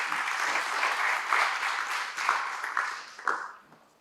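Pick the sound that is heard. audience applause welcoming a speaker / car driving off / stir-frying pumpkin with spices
audience applause welcoming a speaker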